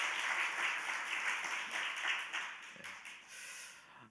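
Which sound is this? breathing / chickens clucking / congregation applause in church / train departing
congregation applause in church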